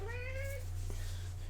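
A cat gives one short, clear meow over a steady low electrical hum, with no talking.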